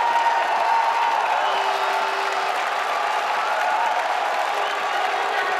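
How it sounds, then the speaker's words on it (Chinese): A full stadium of football fans at a Taiwan versus Turkmenistan Asian Cup qualifier cheers and applauds, a dense, steady roar of crowd noise sustained at even loudness throughout. "可以看到满场的球迷现在是欢声雷动啊"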